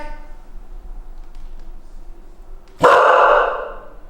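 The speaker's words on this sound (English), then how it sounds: "That's a big boy bark." A big dog lets out a single loud, close bark after a few seconds of quiet room sound.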